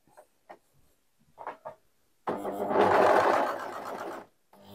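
An overlock sewing machine with the thread removed from its looper runs briefly after a few light handling clicks, giving a close, fast mechanical whirr that lasts about two seconds before stopping.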